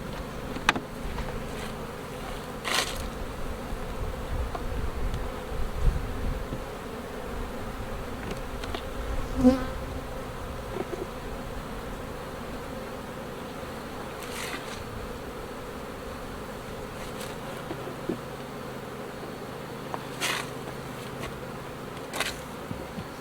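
Many honey bees buzz in a steady, low hum around hive frames during a hive split into nucs, with individual bees occasionally droning louder as they pass close by.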